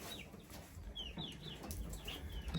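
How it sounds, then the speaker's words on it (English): A rooster clucks several times in short, scratchy bursts, close and fairly loud, over a little indoor background noise. "You're definitely a rooster."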